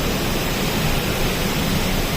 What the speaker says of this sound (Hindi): हर तरफ पानी गिर रहा है, बह रहा है, रोड बह गई है।